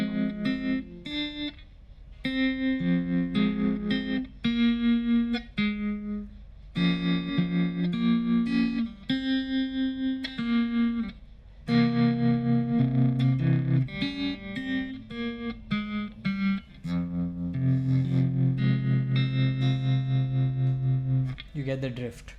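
An Enya Nova Go Sonic smart electric guitar on a clean preset plays ringing notes and chords in phrases with short pauses, bright and sustained.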